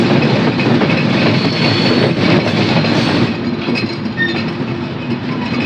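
Steady rumble and rattle of a moving Sundarban Express passenger train heard from inside an AC coach, continuous and loud with faint metallic clinks and squeals.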